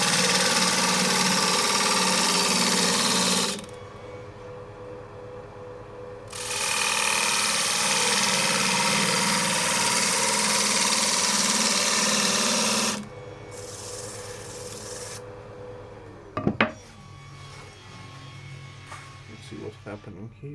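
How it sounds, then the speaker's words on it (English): A smaller gouge cuts a chestnut bowl spinning on a wood lathe, giving a steady close scraping rasp in two long passes with pauses between, then the hum of the running lathe and a couple of sharp knocks near the end. "Start with the smaller gouge now"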